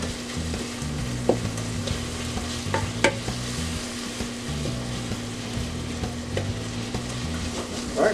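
A greens rotini casserole sears in a hot pan, giving a steady close sizzle with a low hum underneath and occasional clicks and scrapes of a utensil against the pan.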